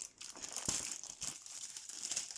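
Sheet of scrapbooking paper crinkling and rustling as it is picked up and handled, with a few soft crackles and taps close by.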